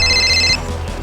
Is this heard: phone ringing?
yes